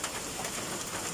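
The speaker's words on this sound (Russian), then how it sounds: "Кошмар, какой град огромный!" A brief burst of large hail falling hard, a dense unbroken hiss of ice striking surfaces nearby, steady and fairly loud with no voices.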